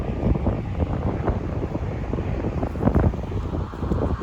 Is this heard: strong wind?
yes